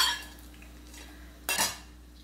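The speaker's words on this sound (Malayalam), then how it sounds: "നന്നായിട്ടൊന്ന് മിക്സ് ചെയ്തെടുക്കാം. എല്ലാവരും നന്നായിട്ട് തന്നെ ഒന്ന് മിക്സ് ആയിട്ട് വന്നോട്ടെ." Soya chunks rice gets stirred in a pan, quiet at first with a faint scrape, then a single brief clatter of a spoon against the metal pan near the end.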